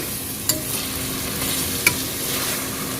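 Onions and ginger garlic paste sauté in a pan for chicken biryani, a steady sizzle broken by two sharp spoon clinks against the pan, with no voices.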